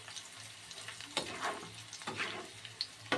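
Cumin seeds and garlic cloves hit hot oil as a tempering for a mango pickle. Soft, intermittent bursts of sizzling crackle come in a few quiet waves, with no talking.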